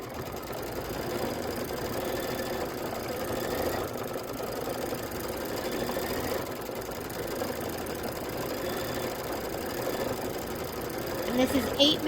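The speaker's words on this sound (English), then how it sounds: "I'm just going to go ahead and hit start, and now it's going to do the quilting stitches" A computerized quilting machine stitching quilting patterns on a quilt top drones with a steady, continuous mechanical hum and rapid needle rhythm, holding even loudness throughout.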